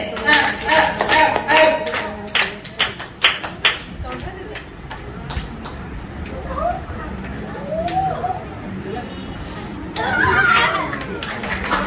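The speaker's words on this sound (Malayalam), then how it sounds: "എല്ലാവരും കൈയടിക്കുക." An audience claps at a Gama Technologies seventh anniversary event in Chettikulangara, bursts of applause that start strong, thin out into scattered claps, then swell again, with chatter and voices mixed in.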